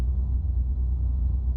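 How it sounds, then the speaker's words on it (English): Truck engine in Euro Truck Simulator 2, a steady low rumble that holds evenly through the short stretch with no other sounds. "I also have realistic truck sounds"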